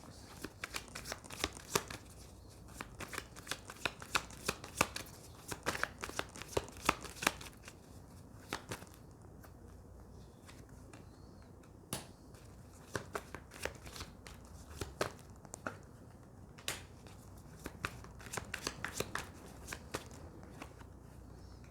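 Tarot cards shuffled by hand in a steady run of crisp riffling flicks and soft slaps, close and fairly quiet, with brief pauses and no talking.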